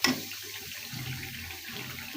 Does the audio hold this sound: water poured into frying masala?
yes